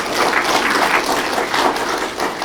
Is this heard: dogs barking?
no